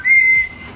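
A pet bird gives one short, clear whistle on cue, close and bright, then falls quiet.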